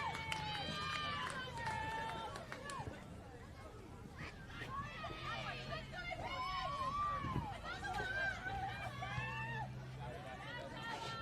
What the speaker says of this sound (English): and listen to that crowd get going.